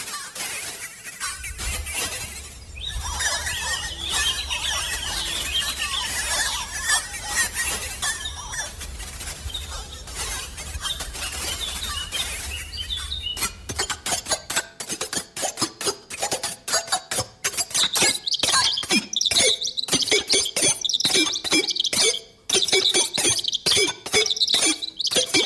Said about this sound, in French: c'est des vrais sons d'oiseaux qui sont complètement retravaillés